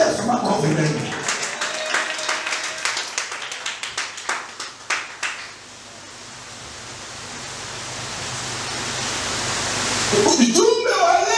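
A church congregation claps for Jesus, rapid rhythmic applause near and loud that thins into a wash of crowd noise, with a preacher's voice over the start and end.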